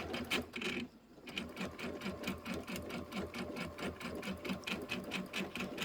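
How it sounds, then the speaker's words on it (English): A sewing machine stitches slowly and carefully over pins while making a quilted bench pillow. Its rhythmic needle clatter runs close and steady, with a brief pause early on, and no one talks. "And I take my time when I'm sewing over pins."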